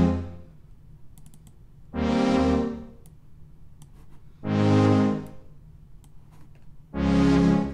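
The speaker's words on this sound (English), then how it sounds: "I started off with a chord progression that sounds like this." Synthesizer chord progression of four sustained, bright chords, each held about a second with gaps of near silence between, played alone and fairly loud.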